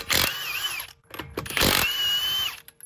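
A power tool with a 21mm socket works on the wheel nuts of a 2017-or-newer Toyota Camry, giving two loud, close whirring bursts separated by a short pause.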